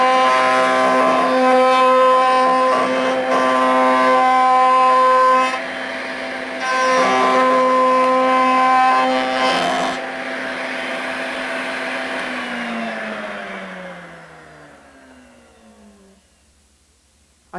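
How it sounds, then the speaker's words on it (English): A wood router cuts a dovetail into a wooden piece with a loud, steady whine. Its pitch shifts a little as the bit bites into the wood, and the motor then winds down and fades to silence near the end. "We'll plug it in the router now, and let's go ahead and cut the piece"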